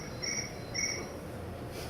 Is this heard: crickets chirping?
yes